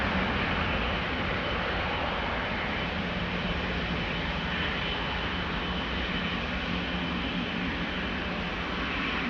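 An Embraer 190 jet departing Schiphol airport in Amsterdam, heard as a steady broadband engine roar that holds at a constant level for the whole stretch, with no talking over it.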